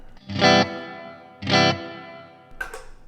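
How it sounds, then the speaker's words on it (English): Two strummed electric guitar chords through a Fender Mustang GTX amp's hall reverb ring out into a long, spacious reverb tail that fades slowly, followed by a brief third strum at the end. "This is the hall reverb, again with it."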